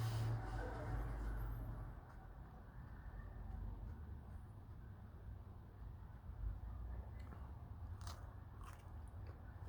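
A cat chewing on a hat, giving soft, irregular biting and crunching sounds up close, with faint scraping over a low background hum.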